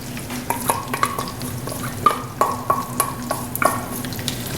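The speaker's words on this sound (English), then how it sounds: "Now that the oil's gotten hot, we'll add these bacon bits that I made earlier. We'll let them cook up just a little bit." Small bacon bits fry in hot oil in a pan for shrimp and grits, with a steady soft sizzle broken by repeated scraping stirs and light clinks of a utensil against the pan.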